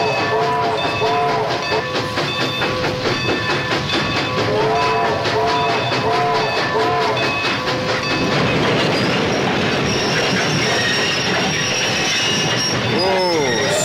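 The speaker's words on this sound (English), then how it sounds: "One of the steam trains is leaving, John, and it's heading right this way." A steam train rumbles closer with rhythmic clickety-clack, repeated whistle blasts and squealing wheels, loud and near, with a crowd murmuring beneath, on the 1979 Universal Studios California tour.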